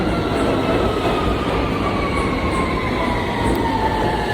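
A New York City subway R local train rumbles loud and close with a continuous roar of wheels on rails and faint high squealing tones, steady throughout.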